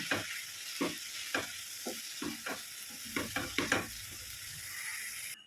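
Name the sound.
potato and long beans stirred with ground masala in pan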